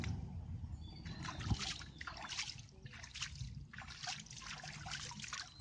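Temple water trickling and splashing as feet are washed: uneven, soft bursts of running and splattering water, faint and close, over a low rumbling background.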